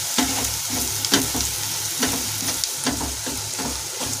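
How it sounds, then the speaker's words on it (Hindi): Spices being stirred into fried onions in a hot pan, with a steady sizzle broken by repeated scraping strokes of a spoon, close and clear with no talking. "अब प्याज के अंदर मैं ये मसाले ऐड कर दूंगी। और इसे अच्छे से मिक्स करूंगी।"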